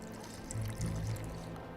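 Water pours into a mixture in the video game Witcher 2, a brief soft trickle at low volume with no talking.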